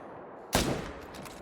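One sharp rifle shot in The Hunter: Call of the Wild, a sudden loud crack that rolls off into a fading echo after a quiet moment, standing alone without talk.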